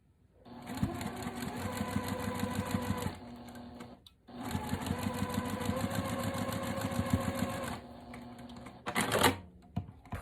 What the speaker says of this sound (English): take them over to my sewing machine